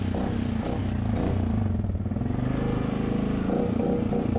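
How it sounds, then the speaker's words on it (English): A Honda motorcycle fitted with a left-hand throttle backs up in reverse, its engine running loud and close with a steady, rough pulsing rumble and some clatter. "let's back this up. It's in reverse, left hand throttle only."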